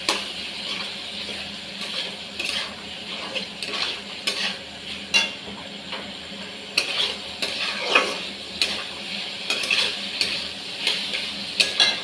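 A spoon stirs whisked yogurt into vegetables cooking in a pan for a small vegetable biryani, with repeated scraping and clinking against the pot over a low background sizzle, no voices.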